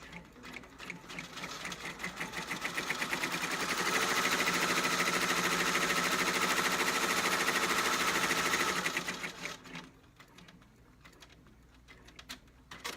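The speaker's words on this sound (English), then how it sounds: "So now it's going to do our second stitch, that same spot, to tack down the fabric." An embroidery machine stitches an applique tack-down to secure fabric, a steady rapid needle chatter that builds to full loudness mid-clip, then stops and gives way to quieter handling noise.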